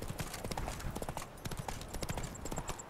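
Galloping horse hooves from riding in The Witcher 3: Wild Hunt, Blood and Wine, a steady rapid clip-clop over a busy game soundscape, with faint chiming tones near the end.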